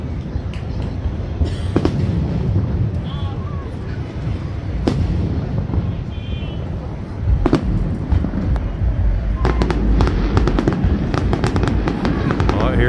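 Final barrage of a 4th of July fireworks show beneath the Gateway Arch, with continuous loud crackling and booming and repeated sharp bangs in quick succession, steady throughout.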